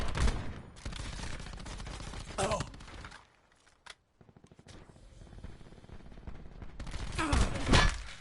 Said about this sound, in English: So this is how I snipe in Call of Duty Black Ops 4.